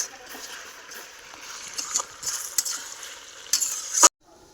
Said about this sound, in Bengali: জিরার গুঁড়োটা দিয়ে একটু ভেজে নিই।